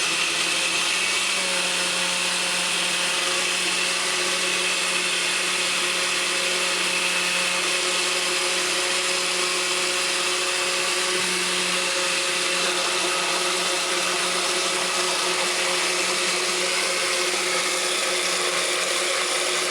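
A blender whirs steadily on high speed blending mango and water, a loud continuous motor roar with a churning wash of noise throughout.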